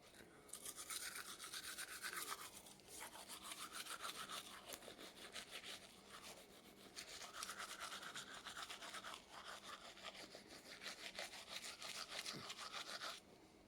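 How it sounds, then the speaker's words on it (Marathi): Toothbrush scrubbing teeth in the morning, a steady close rhythmic scratching with brief pauses, continuing without any talk. "आज सकाळी सर्वात अगोदर करते मी ब्रश"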